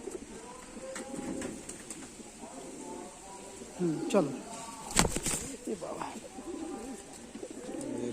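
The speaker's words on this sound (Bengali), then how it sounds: "এই হচ্ছে পায়রা, বন্ধ লেজের পায়রা।" A male closed-tail pigeon, a champion bird being held in the hand, coos softly in low, rolling phrases close by, while people talk over and between the calls.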